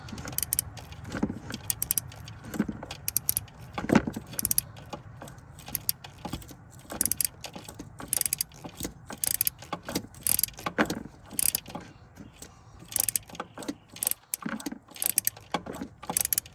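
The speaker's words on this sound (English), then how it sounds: "got our deep socket 13. I'm gonna put that over this. And we're gonna start tightening down." Deep 13 mm socket wrench working a bolt while replacing the thermostat on a GMC Savana / Chevy Express van, heard as repeated close metallic ratchet clicks and tool clinks in short irregular bursts, with no talk.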